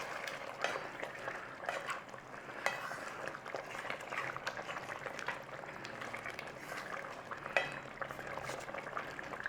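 Chicken spinach curry is stirred after hot water is added, giving a quiet bubbling, sloshing simmer with soft scrapes and clicks of a spoon against the pot, close up and with no talking.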